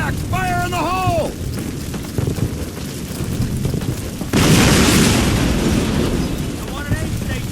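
A grenade or explosive blast in the World War II shooter Call of Duty 1, a loud broad boom midway through that swells and lingers over ongoing battle noise, with shouted voices and radio chatter before and after.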